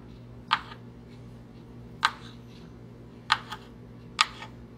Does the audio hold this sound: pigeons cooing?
no